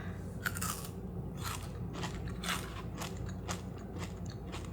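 Crunchy Dubai chocolate filled with pistachio cream and crisp pastry shreds bitten and chewed close up, a few sharp crackling crunches over a low steady background, no talking.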